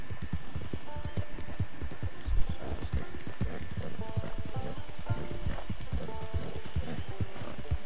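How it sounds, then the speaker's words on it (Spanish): Horse hooves clip-clop steadily in a Wild West video game, a brisk rhythmic trot carrying on throughout, close and clear over background game music, with no talking. "ahora da gusto ir con el caballo este"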